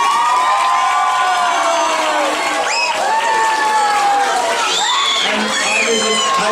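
A lecture-hall audience claps and cheers loudly for a guest called to the stage, with whoops and shouts rising over dense sustained applause, voices mixed in.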